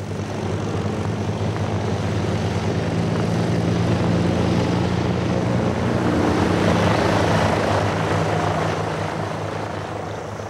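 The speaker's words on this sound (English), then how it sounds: "This is film of Orville Wright and Frank Lomb's flight on July 27, 1909." A 1909 Wright airplane carries Orville Wright and Frank Lahm aloft, its propeller engine droning steadily and loudly in a continuous hum that swells slightly toward the middle and stays unbroken throughout, with no talking.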